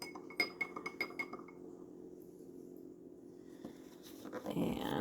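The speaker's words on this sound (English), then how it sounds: "we're going to mix it up with our plastic spoon, not our metal, till the salt dissolves" A plastic spoon stirs salt into liquid in a glass, producing a quick series of light clinks and taps against the glass that fade into a softer scraping swirl near the end.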